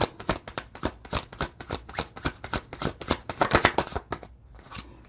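Tarot cards shuffled by hand for a reading, a rapid run of crisp riffling snaps and flutters in close, steady bursts that thin out near the end, with no talking.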